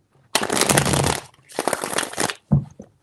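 Tarot cards being shuffled in two long riffling bursts, crisp and close, followed by a brief soft shuffle at the end, with no talking.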